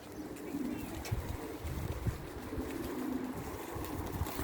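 Pigeons, including a mature hen, a young hen and a feather-footed cock, make low, continuous cooing in a pigeon setting, with steady murmuring throughout and no talk.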